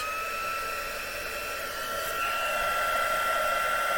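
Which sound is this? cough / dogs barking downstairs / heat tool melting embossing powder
heat tool melting embossing powder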